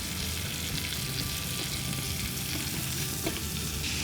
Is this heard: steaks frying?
yes